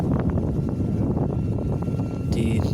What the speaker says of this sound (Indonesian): diterpa angin yang cukup kencang ya, cukup kencang